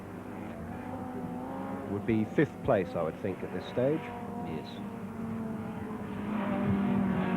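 A Mini race car drones steadily around the Winton circuit under a commentator's talk, its engine note rising toward the end.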